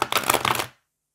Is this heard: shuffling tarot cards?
yes